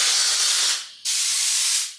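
Two loud blasts of compressed air hiss close by near a car, separated by a brief pause. The second burst runs a little longer.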